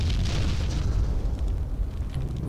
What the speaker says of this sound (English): gets to these barrels and explodes them in our face